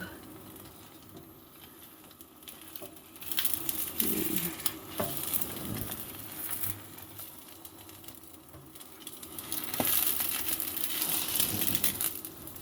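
A scallion pancake with egg frying in a pan, a steady close sizzle that swells louder toward the end, with occasional light scrapes and taps and no talk.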